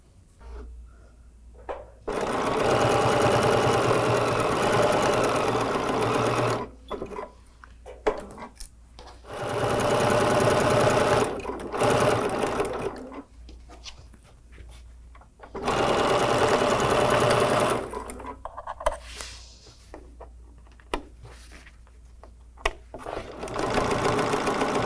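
A sewing machine stitches a quarter-inch quilt seam joining white and colored fabric in bursts of steady whirring, stopping and restarting several times with brief quiet gaps between runs.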